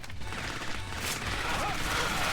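Gunfire from a Rambo arcade light-gun game sounds as a dense, rattling fusillade of machine-gun bursts amid mechanical clatter and game noise at moderate loudness.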